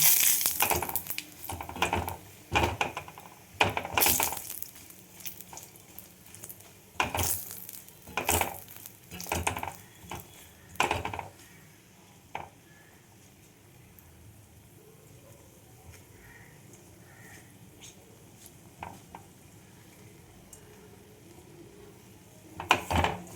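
Bori lentil dumplings fry in a shallow layer of oil in a kadai, with bursts of stirring and clattering in the first half, then a softer, steady sizzle near the close.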